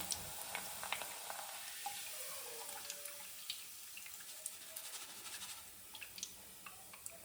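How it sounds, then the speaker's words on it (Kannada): Flattened rice (poha) frying in oil in a home kitchen for a late-night mixture snack, giving a soft, steady sizzle and crackle with faint scattered pops, no talking. "ಇವಾಗ ಅವಲಕ್ಕಿನ ಹಾಕೊಳ್ತಾ ಇದ್ದೀನಿ"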